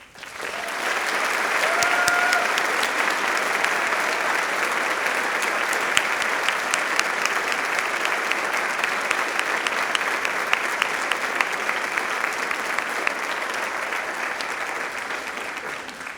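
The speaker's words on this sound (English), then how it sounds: "Please join me in congratulating all of the graduates with your applause." Steady, sustained audience applause for law graduates at a spring university convocation ceremony, dense clapping from a large hall crowd holding evenly for about sixteen seconds before tapering slightly.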